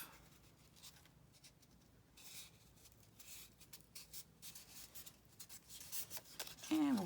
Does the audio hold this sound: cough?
no